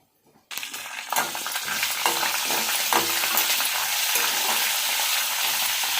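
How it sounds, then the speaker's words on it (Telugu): A tempering of ginger, green chilli and curry leaves hits hot oil for lemon pulihora, bursting into a loud, continuous sizzle after a short silent start, with occasional stirring scrapes and no talk. "ఈ తాలింపులో అల్లం పచ్చిమిర్చి కరివేపాకు వేస్తానండి"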